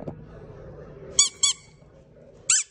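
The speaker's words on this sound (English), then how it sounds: "You like my squeaky toy?" A squeaky dog toy squeaks three times in short, loud, high bursts, two close together and one after a pause, over quiet low background.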